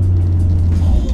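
Renault Clio 197 (2007, on B14 coilovers) pulling hard through a corner in second gear, its engine droning loud and steady up close with a deep continuous low hum throughout.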